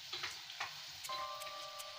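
Pakoras frying in hot oil give a steady, soft sizzle with scattered crackles, a thin bright ringing tone entering partway through; no voices.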